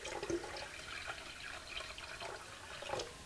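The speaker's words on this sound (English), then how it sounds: "So let's put a little more water in there." Water pours into a bowl holding sodium silicate solution for storing eggs, a soft continuous splashing and trickling with a few drips, close and fairly quiet, with no talking.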